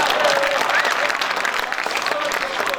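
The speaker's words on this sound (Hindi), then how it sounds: "लेकिन तालियां तो उतना नहीं आया जितना मैं सोचा।" A crowd at an educational institution's event breaks into steady, dense applause, loud and unbroken throughout, with faint voices mixed in.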